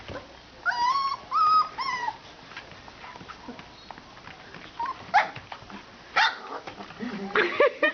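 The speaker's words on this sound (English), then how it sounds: "I love their little bark." Small, high-pitched barks and yips from three-week-old puppies come in short bursts, with a few whimpers between them, fairly close and clear.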